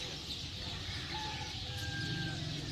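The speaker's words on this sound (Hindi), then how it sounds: "बहुत ही प्यारी चिड़ियों की चहचहाने की आवाज़ें आ रही हैं।" Hundreds of birds gather in eucalyptus trees in a village at evening, their dense, continuous chirping filling the air at a moderate distance, with some fowl-like clucks mixed in.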